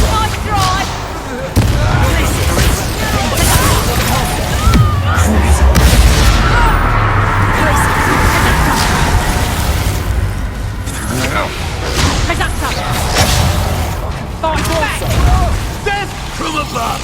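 In Hogwarts Legacy, the Bombarda spell sets off booming explosions. A spoken voice casts spells over loud, crashing blasts, whooshes and clattering combat sounds that continue throughout.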